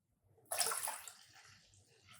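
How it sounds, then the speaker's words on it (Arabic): A cup of cold water poured into a jelly mixture, a sudden close splashing gush that fades into a lighter trickle over a couple of seconds, with no voices. "ونحط كوباية مية ساقعة من الكولونيل"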